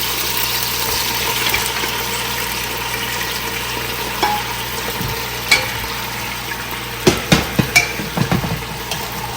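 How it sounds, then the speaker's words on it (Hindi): Boiled mutton pieces frying in a little oil in a pan for arvi gosht, a steady close sizzle with a few sharper crackles and stirring clatters near the end. "चलिए अब इसमें जो है हम डाल देते हैं गोश्त"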